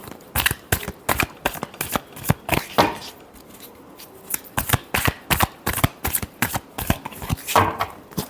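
Tarot cards are shuffled by hand in a final shuffle, a series of crisp, close riffling bursts in an uneven rhythm with short pauses between them.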